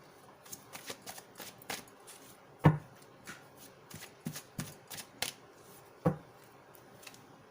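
Tarot cards are shuffled by hand in a series of quiet riffles and flicks, with soft irregular card snaps spaced across several seconds and no talk.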